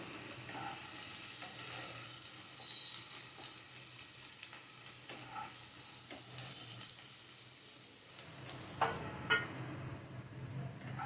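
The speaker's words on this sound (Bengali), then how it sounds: "পেঁয়াজটা আমি ভালো করে ভেজে নেব" Onions with a little salt sizzle steadily in hot oil, close by, with occasional stirring scrapes and a few light clicks toward the end.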